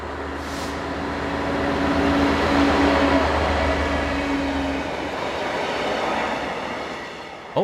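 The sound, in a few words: Class 66 locomotive arriving on a container train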